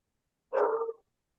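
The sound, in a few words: dogs barking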